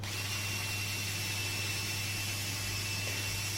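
A cordless drill fitted with a hook-and-loop sanding attachment runs continuously, a low, steady motor hum with a faint whine, fairly quiet and even throughout.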